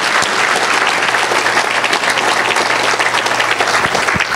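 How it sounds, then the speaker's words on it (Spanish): A church congregation applauds loudly and steadily, a dense, sustained wash of clapping filling the room without pause. "Denle un fuerte aplauso al Señor si usted lo cree."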